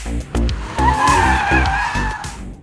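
Tires squeal loudly in a sustained skid as an all-wheel-drive BMW M340i drifts, with the engine revving underneath.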